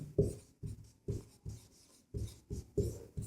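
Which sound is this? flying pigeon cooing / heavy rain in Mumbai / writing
writing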